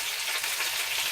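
Pompano fish frying in a pan, a dense, steady hiss of sizzling oil with a crackling texture, close and continuous.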